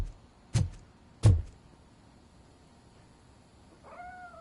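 Grumpy, a cat in a video game, gives a single short meow near the end, after two sharp thumps and a quiet stretch.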